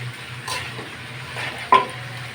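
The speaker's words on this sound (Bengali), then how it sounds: "আমি শাকটা দিয়ে নাড়াচাড়া করে আমি আমি কোনো জল ব্যবহার করবো না" Malabar spinach greens with jackfruit seeds are stirred in a hot pan without water, giving a soft, low sizzle with a few gentle scrapes and one sharp clink of the utensil near the end.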